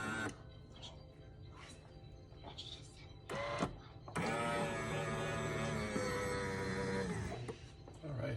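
A Café Affetto automatic espresso machine powers on with clicks and a beep, then settles into a steady mechanical whirring hum; people talk quietly early on.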